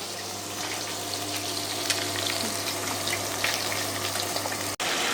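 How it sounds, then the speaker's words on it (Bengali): Potato, tomato and bean seeds sauté in a pan over a gas stove. A steady, close sizzle and hiss runs throughout with no talking, then cuts out briefly near the end. "সেই আলু, টমেটো, সিমের বিচি এগুলো একটু কষিয়ে নিচ্ছি"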